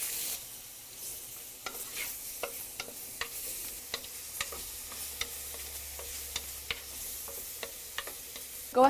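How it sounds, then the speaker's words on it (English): Leeks and chorizo sizzle in warm oil in a tall-sided clay pot, giving a soft continuous frying hiss. Regular light ticks and taps of stirring come through close up, with a louder clunk at the very end. "once you've got that oil nice and warm, go ahead and add your leeks. Go ahead and add your chorizo"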